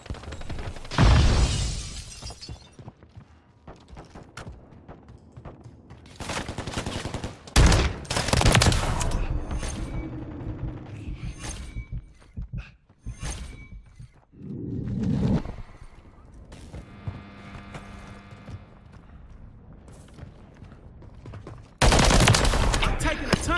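Bursts of automatic gunfire and bullet impacts strike the player in Call of Duty Modern Warfare 3, mixed with shattering and whooshing effects. The firing is loud and close, coming in several heavy salvos separated by quieter stretches.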